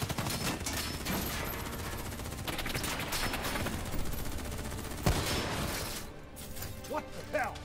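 Sustained rapid gunfire from a Call of Duty: Black Ops III firefight against an armored enemy, dense overlapping bursts and shots filling the scene with a sharp crack near the five-second mark, voices talking over the fight.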